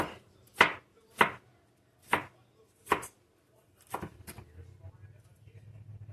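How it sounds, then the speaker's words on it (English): Knife chopping through green bell peppers cut from the inside flesh side, about six sharp distinct chops on a board at an uneven pace, close and loud, followed by a low rumbling hum. "if you cut your peppers, if you don't cut them on the skin side, you cut them on the inside, it doesn't dull your knife as quick"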